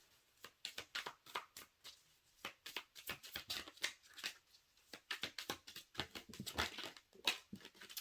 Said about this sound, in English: I love when I shuffle and then like a million cards fall out.